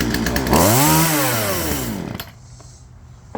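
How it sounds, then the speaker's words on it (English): Stihl chainsaw engine catches and revs up, its harmonic whine rising and falling loud and close for about two seconds, then cutting back to a low idle burble. "And that is how you start a chainsaw."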